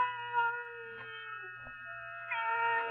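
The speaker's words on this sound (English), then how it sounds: "Then the silence was broken by the faint crying of one cat." Cat crying with drawn-out, wavering meows, a couple of sustained wails rising and falling, clear and close against a low steady hum.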